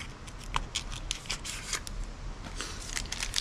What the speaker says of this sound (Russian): Нас ждет пакетик. Мы его тоже срываем.